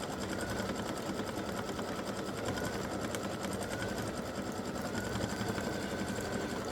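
An embroidery machine stitching a Halloween pumpkin face design runs steadily, its rapid needle chatter and motor hum continuous and close for the whole stretch, with no talk.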